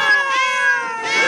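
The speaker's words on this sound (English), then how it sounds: "Ah, a room full of cats," Cats meowing in a room full of cats, a single long, clear, close meow that wavers in pitch and holds steady for over a second.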